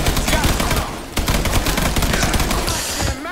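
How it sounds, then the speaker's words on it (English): Heavy gunfire in the Mafia 3 game, a loud, dense barrage of rapid overlapping shots that pounds on without pause, with a brief dip midway and faint talk underneath. "Under heavy fucking fire."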